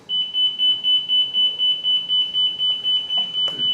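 An aviation inner marker beacon tone heard on a receiver tuned near the Atlanta airport runway: a high, rapid train of short dots pulsing evenly and continuously, loud and close, with a brief crackle at the end.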